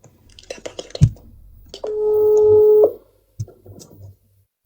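A telephone call tone sounds as a steady electronic tone for about a second amid quiet handling noises and soft taps, near and clear.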